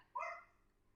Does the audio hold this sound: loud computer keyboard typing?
no